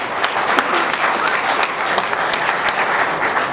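A crowd at the Union de Douala football club congress breaks into applause, with busy, sustained clapping and sharp individual claps popping out over the mass of hands.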